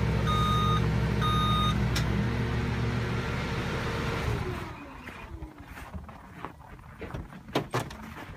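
A truck's reversing alarm beeps steadily with the engine idling, then stops and the engine winds down, leaving clunks and rattles.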